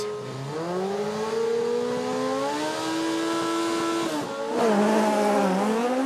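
Race of Champions cars launch off the start line in Mexico with a loud, rising engine howl that climbs through the gears, briefly dips, then surges again, with no one talking over it.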